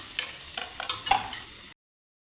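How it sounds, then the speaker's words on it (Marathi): Onion fries in oil in a kadai, a short soft sizzle with a few stirring scrapes, ending abruptly in silence. "प्रथम आपल्याला कांदा गोल्डन ब्राउन करून घ्यायचा आहे।"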